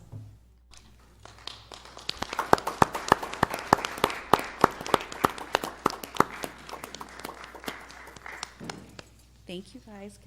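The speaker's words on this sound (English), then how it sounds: "we can give them a round of applause" An audience at a regular city council meeting gives a round of applause, with scattered sharp claps building into sustained clapping in a large room, then fading out as voices start to talk.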